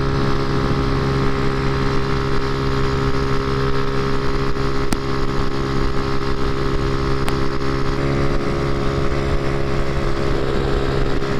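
A moped with moped plates cruises along a highway, its small engine giving a steady, close drone layered with wind rush that holds unbroken throughout.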